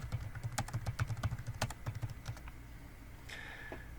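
Fingers type on a computer keyboard into a web browser: a quick, close run of light clicking keystrokes for about two seconds, then quiet with a brief higher tone near the end.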